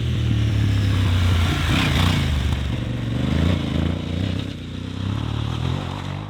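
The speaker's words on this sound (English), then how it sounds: "It's got the standard Euro 5 exhaust, which gives it a little bit more bark." Middleweight Aprilia adventure motorcycle on its standard Euro 5 exhaust, idling and blipping with a deep, loud, close rumble that swells and eases as the throttle is worked, with faint clatter and wind noise and no talking.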